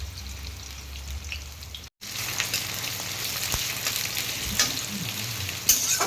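Chopped onions frying in a pan give off a steady, moderately loud sizzle with spattering crackles and occasional stirring scrapes, briefly interrupted near the start.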